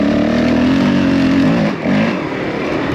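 A Honda CRF450L enduro motorcycle rides through a quarry, its engine holding a loud, steady buzzing drone up close, with a brief dip in revs before it pulls back up.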